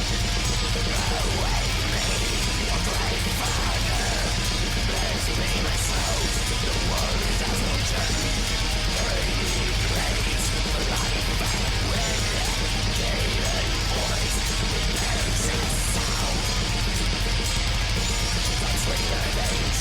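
Loud, dense black metal plays throughout, with fast, harsh tremolo guitar riffing and relentless drums filling the whole sound.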